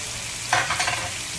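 Ginger drops into a hot pan of oil while cooking acqua pazza, giving a brief burst of sizzling and stirring that rises sharply, then settles back to a steady fry.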